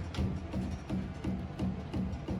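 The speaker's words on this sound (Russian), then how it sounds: "конечно, стучит амортизатор." Fox 3.0 shock absorber on a 2023 Polaris Pro R knocking in a regular rhythm of about six dull thumps over two seconds, close and fairly quiet with no speech.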